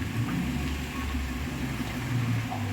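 An Isuzu Trooper's 4JX1 diesel engine runs with a steady low drone, fairly quiet and close, with no voices.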